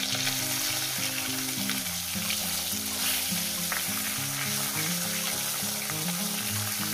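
Catla fish pieces fry in hot oil with a constant close sizzle and spatter, while a low melodic background tune plays steadily underneath.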